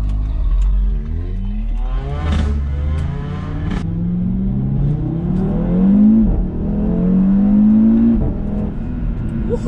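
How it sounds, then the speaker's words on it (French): A 2017 Audi S3 five-cylinder engine accelerating hard, loud and close, its rising note climbing through the gears with brief dips at each shift, no talking over it. "le 5 cylindres, il fait un boucan les gars, démentiel."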